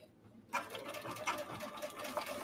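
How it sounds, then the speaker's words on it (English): A sewing machine starts up and runs a continuous stitching whir while backstitching a fabric laptop sleeve, close and steady with a mechanical rattle and no voices. "I'm going to backstitch at the top of each side"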